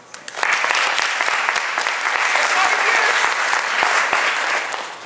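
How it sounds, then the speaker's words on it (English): An audience at an event on underserved and underrepresented students breaks into dense, sustained applause that swells quickly and holds strong before easing off at the end. "That deserves another applause."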